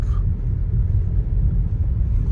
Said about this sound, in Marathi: हो बाबा गाड्यांचा ट्रॅफिक कसा बघ